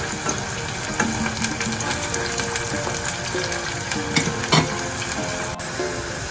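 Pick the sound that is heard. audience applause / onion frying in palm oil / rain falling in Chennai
onion frying in palm oil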